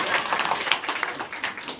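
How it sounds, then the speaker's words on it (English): Applause from a small crowd at a children's museum hospital grand opening, dense overlapping hand claps lasting under two seconds at steady moderate loudness. "That's even more applause"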